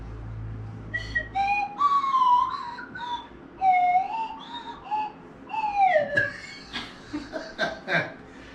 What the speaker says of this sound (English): I'll play the slide whistle